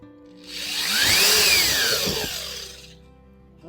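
A power drill drives screws into a tiny home's window frame, whirring up, spinning with a rising and falling whine for a couple of seconds, then winding down, close by.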